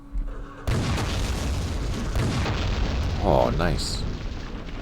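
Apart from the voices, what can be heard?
artillery fire explosions in war video game Campaign Series East Front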